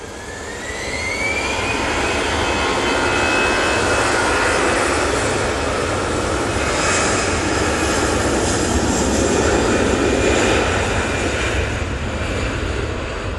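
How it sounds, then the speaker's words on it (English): Emirates A380-800 jet airliner landing at Manchester Airport after a flight from Dubai, a loud, sustained jet roar with a rising whine early on, staying strong and close throughout the touchdown. "the Emirates A380 800 coming in from Dubai"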